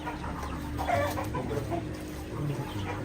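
Chickens on a farm where fermented feed is made cluck softly and repeatedly at close range, a steady low murmur of hens with brief louder calls.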